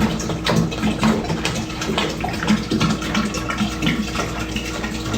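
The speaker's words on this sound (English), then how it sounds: "Try not to splash as much as I'm splashing." Water splashes and gushes steadily into a beer fermenter, a continuous rushing pour with bursts of splashing throughout.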